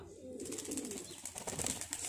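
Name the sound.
pigeons in a loft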